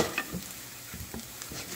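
Minced garlic sweats gently in a pan with a soft, low sizzle and a few light stirring scrapes, quiet and close.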